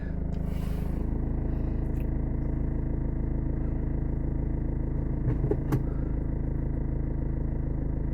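A Maruti Swift engine idles steadily and close, with an even, low mechanical hum and a few faint clicks partway through.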